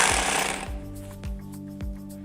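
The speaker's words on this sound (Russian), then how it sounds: "использовали обычный перфоратор" A standard rotary hammer drill drives 6x40 nylon nail anchors, giving sharp repeated impact thuds over a steady motor hum, with a noisy burst first and then about four spaced knocks.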